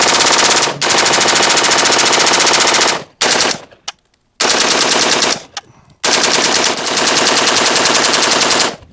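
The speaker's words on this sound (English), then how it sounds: "Every round that you see getting fired was a separate pull of the trigger by me." Rapid semi-automatic gunfire at an outdoor range from rifles fitted with forced reset triggers, loud and close, in dense machine-gun-like bursts broken by a few brief gaps.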